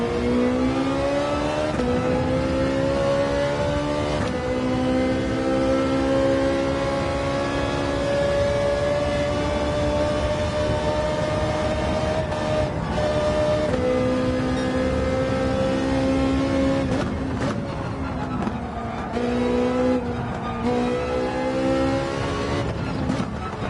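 Ferrari race car engine in the Gran Turismo 7 video game, a loud continuous high-revving whine that climbs and drops through gear changes as it drives a track, with brief tire noise and no talking.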